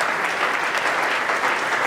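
Sustained audience applause fills the room at a phone launch event for the itel S18 and S18 Pro, steady and dense clapping throughout with no break.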